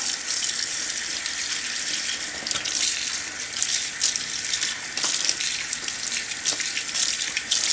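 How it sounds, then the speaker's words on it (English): Tap water runs steadily over potatoes being rinsed in a sink, a close continuous hiss and splash with faint knocks of the potatoes, no voices. "So it's good to rinse them off, right? So just rinse it out."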